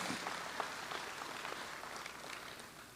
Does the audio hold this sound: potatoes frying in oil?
no